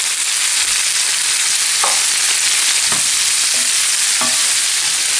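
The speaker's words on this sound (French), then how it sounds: "une fois que j'ai fait cuire mes échalotes, je rajoute par-dessus des crevettes" Shrimp frying in olive oil over cooked shallots give a loud, constant hiss of sizzling, broken by a few brief knocks and scrapes of stirring.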